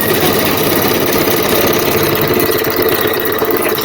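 An embroidery sewing machine stitches out a design with a steady, loud mechanical whirring and rapid needle rhythm, running continuously and close by with no talk over it.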